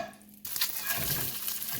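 Potato and cheese pierogi frying in butter in a pan, a sudden close sizzle that swells and then holds as a steady hiss.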